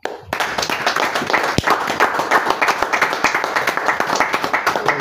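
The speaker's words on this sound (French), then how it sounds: "Acclamons pour le Seigneur." A church congregation in Yaoundé claps and applauds during a worship service, with dense, sustained hand-claps filling the room at close range and a few sharper claps standing out.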